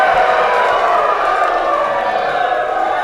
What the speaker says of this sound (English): let's do a little cheer for that